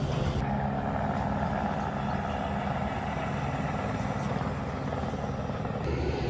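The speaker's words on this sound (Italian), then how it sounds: "Praticamente i barili d'uva vengono portati con l'elicottero" A helicopter carrying grape barrels passes overhead on a Swiss road, its loud, steady rotor and engine roar dominating throughout with no pause.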